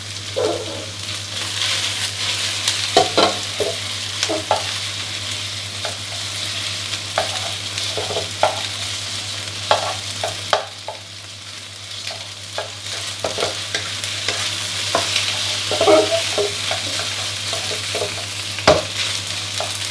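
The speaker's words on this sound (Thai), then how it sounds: "ผัดให้หมูกระเห็ดหอมโดนน้ำมันน้ำร้อนสักครู่ครับให้ออกกลิ่นหอมแล้วก็หมูเริ่มที่จะสุกก่อนนะครับ" Pork being stir-fried in hot oil for yakisoba, a constant sizzle broken by irregular spatula scrapes and clacks against the pan, close by with no voices.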